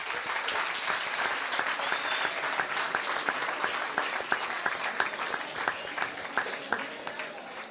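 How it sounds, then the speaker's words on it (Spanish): Students at a university science-writing prize ceremony receive warm audience applause, a fairly soft but dense clapping with some distinct louder claps, and a voice speaking faintly underneath. "Per tant, un aplaudiment per vosaltres."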